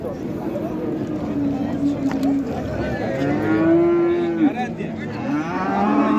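A cow at a cattle market gives a long, loud moo in the middle of the clip, with a shorter moo near the end, while traders talk close by over steady crowd noise.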